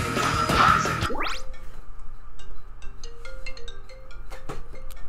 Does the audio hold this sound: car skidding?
no